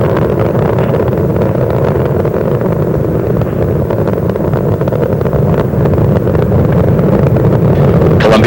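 Space Shuttle Columbia's three liquid-fuel main engines roar during the STS-107 launch from Kennedy Space Center, a loud, continuous low rumble with wind-like buffeting that holds steady throughout.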